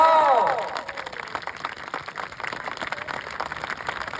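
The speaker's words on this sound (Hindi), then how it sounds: "तेकर बर अपन आप पर जोरदार ताली बजा दो।" A crowd at an outdoor festival rally claps loudly and continuously after an amplified voice, producing a dense, crackling patter of applause that carries on for several seconds.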